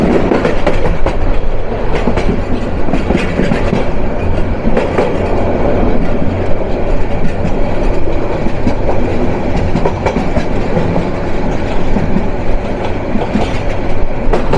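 Kishoreganj Express intercity train on the Dhaka–Chattogram metre-gauge double line, rolling through a sweeping curve with a loud, steady clickety-clack of wheels on rails and a continuous rumble throughout.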